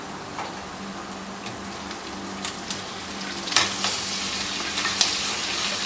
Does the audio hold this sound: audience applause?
no